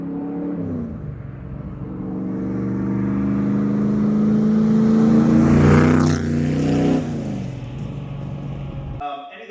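Factory Five MKIV Roadster engine building from a low rumble into a loud, rising drone, peaking and then dropping off sharply, with talk faintly underneath.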